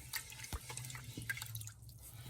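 Milk poured into a pan of sautéed mixture for a creamy chicken pasta sauce, a soft dripping, splashing trickle with a few small taps, quiet and close, no talking.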